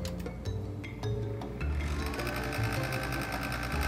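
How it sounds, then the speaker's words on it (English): Cooling fan in the power supply of a Soviet PDP-11 clone computer running, a steady close mechanical whir with light rattling that shifts to a faster, denser tone partway through. "fan seems to be running a little faster"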